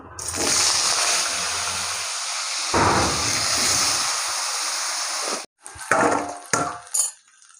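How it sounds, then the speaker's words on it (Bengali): Cut potatoes frying in hot oil with a little turmeric give a loud, steady, close-up crackling hiss for about five seconds, then a brief break and a few shorter bursts of sizzle. "এই আলু কুটা ভালো করে তেলে ভেজে নেবো।"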